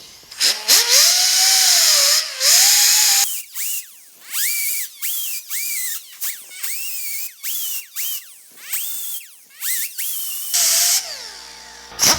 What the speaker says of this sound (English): I'm going to just grind on each side of it a little bit